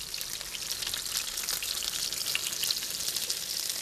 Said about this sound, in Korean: 고열량 재료를 기름에 지지고 튀기는데요